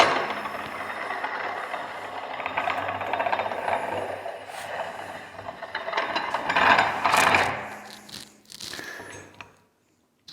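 A clutch roller from a Polaris secondary is spun by hand, giving a close, continuous mechanical whirring and rattling clatter that fades and then stops near the end.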